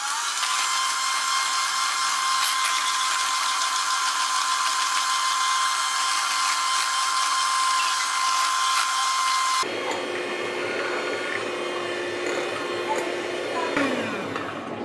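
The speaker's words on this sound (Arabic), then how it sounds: "اذا الان غادي نخفقوا هاد العناصر مع بعض حتى كتولي عندنا كريمه متماسكه" An electric hand mixer whips an ice cream mixture at its highest speed, a loud steady whine close by that drops to a lower, rougher tone partway through as the beaters work the cream.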